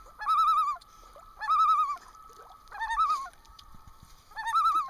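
A loon gives four loud, wavering, yodel-like calls with short gaps between them, each quavering up and down, as a German Shorthair dog chases it on the water.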